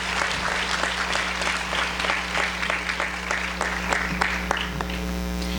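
An audience at a senior awards ceremony gives a sustained round of applause in a hall, dense steady clapping over a low electrical hum, with sharper individual claps near the microphone.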